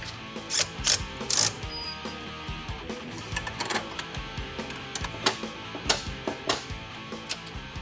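A hand ratchet drives transmission bolts on a 1970 Dodge Super Bee, with irregular clusters of sharp, close clicking strokes repeating throughout and pausing briefly between turns.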